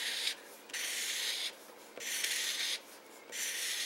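A pen draws stripes across a paper bead, making steady scratchy rubbing strokes in three long even passes with brief pauses between, close and alone.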